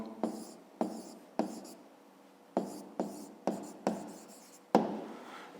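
Pen strokes scratch across paper in eight separate bursts, each a sharp onset fading into a brief scribble, close and fairly quiet during a fifth-grade maths exercise on juice for school canteens.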